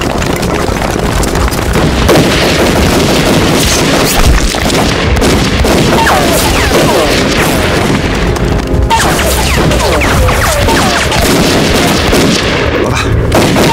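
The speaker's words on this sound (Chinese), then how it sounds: "我们必须开枪" Gunfire and explosions from a battle scene in a Chinese anti-Japanese war action film, loud and continuous throughout, with dense booms, crashes and rapid shots layered over each other.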